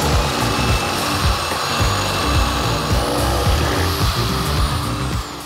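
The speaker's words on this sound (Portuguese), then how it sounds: "Agora a gente vai vir aqui pro outro lado, né, para fazer aí o próximo furo." A power drill boring through a ceiling plafon light fixture while making a homemade softbox, a loud, close, continuous grinding buzz with rhythmic rubbing pulses running throughout, and no talking.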